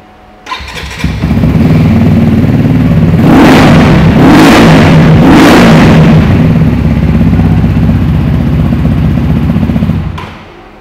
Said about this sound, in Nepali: यो बाइकको साउन्ड पनि सुन्न मन लागिरह्यो होला। म हजुरहरूलाई स्टार्ट पनि गरेर देखाउँछु।